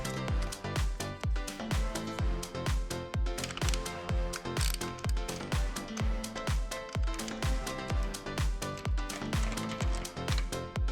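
A ratchet clicks rapidly and steadily on three 8mm bolts on a Honda CRF450RL dirt bike, a dense, close mechanical rattle running without a break throughout.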